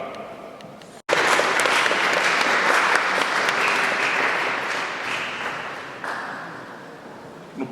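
Congregation at a funeral service in Liège breaks into sustained applause after a sudden start, a dense crowd of clapping hands that holds steady, then gradually thins and fades toward the end.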